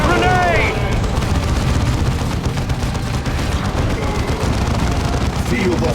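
A grenade blast and sustained gunfire rumble through a Dawn of War 2 battle, with a dense, loud barrage of booms and shots under a brief voice at the start.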